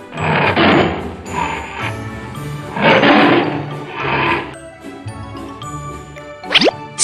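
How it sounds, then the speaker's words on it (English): A tiger roars repeatedly in loud, rough bursts over a continuous bed of music and jingling chimes, ending with a quick rising tinkle, part of a children's animal-sound song. "Tiger."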